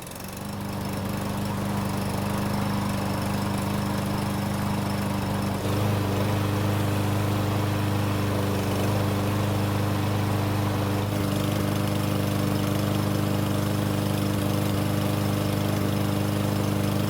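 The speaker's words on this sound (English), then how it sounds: "once we get the recoil back on the engine, we can finally see if the engine will start on fewer than 5 pulls" A small four-stroke lawn mower engine, recently repaired with its recoil starter refitted, starts almost at once and runs steadily, close and loud, with a slight change in pitch partway through and no talk.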